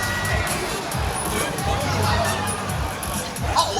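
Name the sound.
audience applause and cheering at Beyblade X tournament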